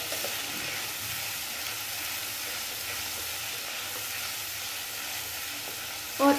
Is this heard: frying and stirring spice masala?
yes